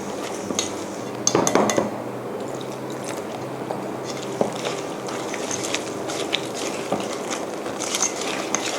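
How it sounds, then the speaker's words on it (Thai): Batter for fried bananas, mixed with cold water, is stirred in a bowl: a continuous wet scraping and sloshing with scattered clinks of a utensil against the bowl, close and steady. "นี้เราจะค่อยๆผสมน้ำเย็นนะคะลงไป แล้วก็คนนะคะ"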